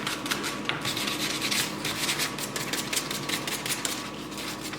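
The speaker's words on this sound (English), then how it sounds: "Now to sand all the fuzzies off the pieces." Wooden bird feeder pieces are hand-sanded to remove fuzz. The close-up scratchy rubbing comes in quick uneven strokes and continues steadily with no talking.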